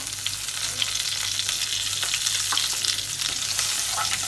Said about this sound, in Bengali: এই যে আমি এখানে একটা দুটো তেজপাতা আর একটা শুকনো লঙ্কা ফোড়নে দিয়েছি